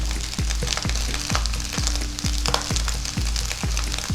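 Ghee rice in a frying pan sizzles steadily in Bengali home cooking while a spatula scrapes through it in repeated strokes about twice a second, loud and close with no talking.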